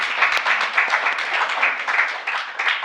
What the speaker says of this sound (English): So we must clap.